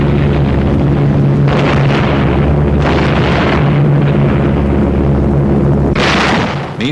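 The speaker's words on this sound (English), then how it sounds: "From the air, RAF bombers opened an attack on the Jap positions in the Nagaduk Pass." RAF bombers striking Japanese positions in the Nagaduk Pass during a Burma campaign, heard as loud continuous rumbling blasts with a steady low drone, swelling bursts near 1.5, 3 and 6 seconds.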